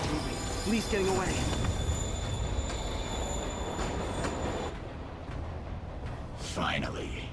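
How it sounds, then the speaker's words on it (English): Train pulling away in a Spider-Man video game, a dense rumbling roar with squealing wheels and metallic clanks, while game voices speak over it. "Train's moving."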